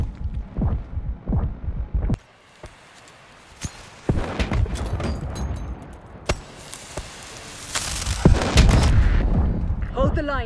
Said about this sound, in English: Tossing Semtex grenade.